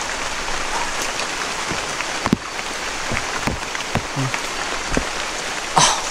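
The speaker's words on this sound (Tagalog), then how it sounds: "umuulan na ulan kasi" Steady rain falls on a surface, a dense, even patter with scattered louder drops and knocks nearby.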